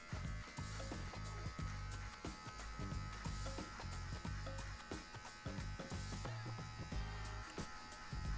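An electric hair clipper fitted with a number 1 guard cuts a short buzz cut, giving a steady close motor buzz with constant hum throughout and small shifts as it passes over the hair.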